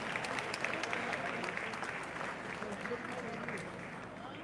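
Audience applause after a community choir performance at a gathering in Glendale, steady sustained clapping from a crowd with a voice speaking over it.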